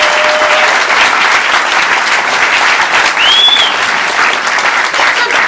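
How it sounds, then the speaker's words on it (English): Loud, sustained applause from a crowd at a mayoral campaign kickoff speech, continuous close clapping filling the whole stretch. "I'd love if we could give another round of applause for the other elected officials that are here"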